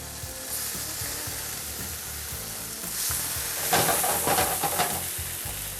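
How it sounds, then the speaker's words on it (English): Salmon and asparagus searing in a nice hot pan, a loud continuous sizzle that swells and crackles harder midway as the fish goes in, with faint clatter underneath. "our pan's nice and hot, so we're going to get the salmon in here now"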